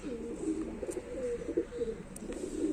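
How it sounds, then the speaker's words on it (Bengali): Black-grained Kaldom Madras pigeons coo close by in repeated low, warbling phrases, a steady rolling rhythm of soft throaty calls with a couple of faint clicks in the background. "তো সবই তোমার কালো দানার পায়রা আছে"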